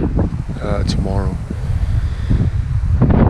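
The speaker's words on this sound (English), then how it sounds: "it's extremely windy here, so hopefully you guys can hear me over all this." Strong wind buffets the microphone in a steady low roar throughout, loud and continuous, with someone talking over it.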